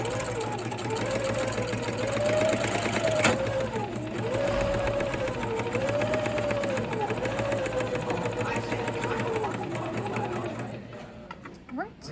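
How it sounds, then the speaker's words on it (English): A sewing machine runs continuously for a straight line of stitching, its rapid mechanical hum and needle rattle loud and close, pausing briefly before stopping; a voice speaks briefly over it. "I'm going to go put the presser foot back down and go straight down."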